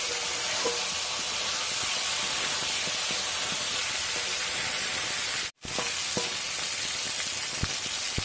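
Bay leaves dropped into hot oil for a Bengali chicken kosa give a continuous, close hissing sizzle with faint pops, broken by one very brief dropout near the end.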